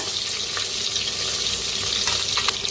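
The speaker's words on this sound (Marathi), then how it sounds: "आता खडे मसाले चांगलं भाजलेले आहेत, त्याच्यातच टाकूया कांदा, लसूण, हिरवी मिरची." Onion, garlic and green chilli fry in hot oil with roasted whole spices, giving a steady close sizzle and crackle with a few sharp pops, and no voices.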